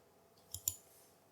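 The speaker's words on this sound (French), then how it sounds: "Je clique sur la flèche du bas." Two quick, quiet computer mouse clicks in close succession, isolated against a faint room hush.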